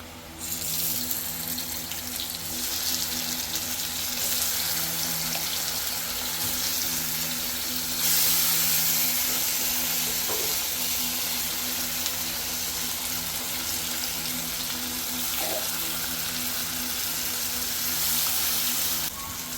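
Loud, continuous hiss of rohu fish frying in hot oil with fried onions, a dense rushing sizzle that swells partway through, with an occasional faint clink.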